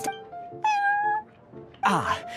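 Prince the cat meowing in Genshin Impact, several clear, close meows with a longer drawn-out cry in the middle, heard alone without speech.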